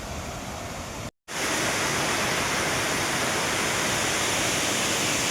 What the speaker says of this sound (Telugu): చూడండి చాలా బాగా అయితే ఉంది వాటర్ ఫాల్ అయితే